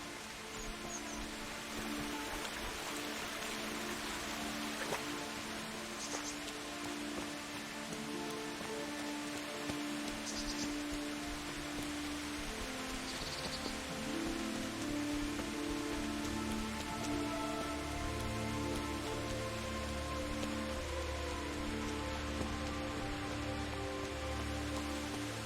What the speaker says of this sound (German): Es regnet, ja toll.